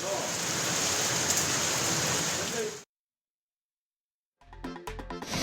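Swollen Swetha river in Salem rushing after heavy rain, a loud, dense, continuous roar of floodwater that cuts off abruptly, followed by a short silence and then music.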